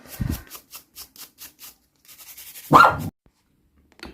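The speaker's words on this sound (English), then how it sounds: "because Bo's just barked" A dog barks twice indoors, close and loud, with one sharp bark at the start and a second one a few seconds later. A quiet run of regular light scraping ticks falls between them.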